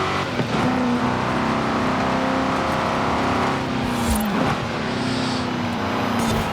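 A 2005 MG XPower SV-R sports car engine in Forza Horizon 5 drones steadily at high revs, its pitch sagging briefly as it shifts, then climbing again. The sound is loud and continuous.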